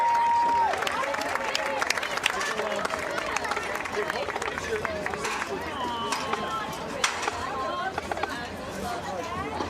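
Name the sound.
applause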